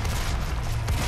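Weapon fire in Doom (2016) gameplay, a loud, dense burst of heavy shots with booming low end that runs nearly continuously, with a sharper blast near the end.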